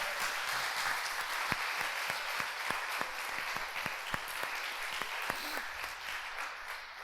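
A church congregation bursts into sustained applause, a steady wash of many hands clapping with a few sharper claps standing out, filling the room for several seconds without speech.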